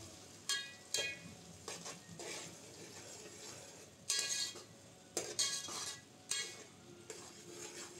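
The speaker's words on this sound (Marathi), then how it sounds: "कांदा आणि टॅमॅटोची पेस्ट भाजून घेतो ना आपण तेलावर जरा" Onion and tomato paste for a homemade chicken biryani cooking in oil in a pan, a faint steady sizzle broken by several sharp scrapes and clinks of a spoon stirring against the pot.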